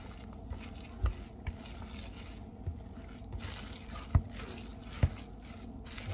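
Meat and kimchi dumpling filling being mixed by hand, a soft continuous squelching and stirring with a few sharper knocks scattered through, close and moderately quiet with no talking.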